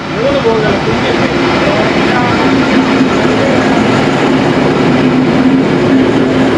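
A loud, continuous rumble of a train arriving at a rural station near Melbourne, Australia, fills the clip, and a voice is faintly audible underneath.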